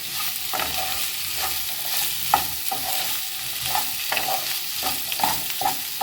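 Potatoes fry in a pan with a continuous sizzle while a spatula stirs them in a loose rhythm of soft scrapes and knocks, close and clear, with no one speaking.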